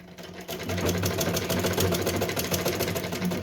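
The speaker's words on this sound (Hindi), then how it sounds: "बस हमें यहाँ पे एकदम बराबर से फोल्ड करते जाना है और इसके ऊपर सिलाई लगाते जाना है।" A sewing machine runs continuously, stitching along a folded fabric edge for a small Laddu Gopal Janmashtami dress, its rapid even needle rhythm loud and close throughout.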